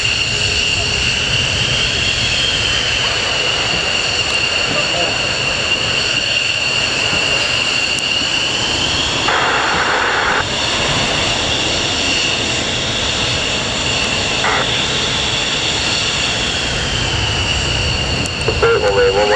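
Four F-15 fighter jets from Lakenheath departing RAF Mildenhall airfield, a loud continuous roaring jet engine blast with a high whine filling the whole stretch, constant and near.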